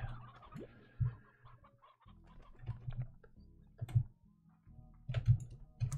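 Chickens in the video game Slime Rancher cluck in short repeated bursts at a steady moderate level, mixed with light keyboard tapping.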